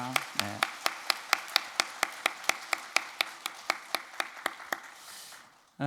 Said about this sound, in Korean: 힘찬 박수 한번 하시겠습니다